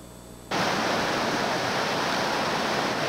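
Whitewater rushes through Fayette Station Rapid on a river rafting trip, a loud, dense, unbroken roar that bursts in abruptly after a quiet half second and stays steady.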